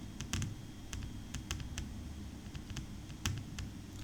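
Sharp keystroke clicks in irregular bursts, fairly close, as someone types on a computer keyboard while entering labels into a spreadsheet cell, with a low steady hum underneath and no talking.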